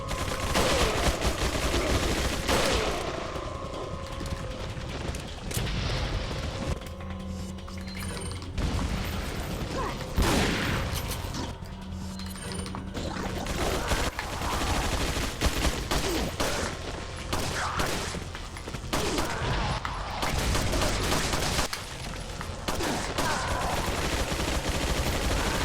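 Rapid mechanical turret gunfire in Resident Evil 4 Separate Ways, a dense rattling barrage that runs almost nonstop over loud game sound, with clanking mechanisms and metallic ratcheting throughout.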